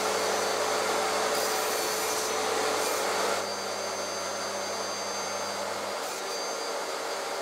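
A table saw with a crosscut sled cuts oak pieces with a loud, steady whining roar that drops in intensity partway through and continues as a lower hum, without talk.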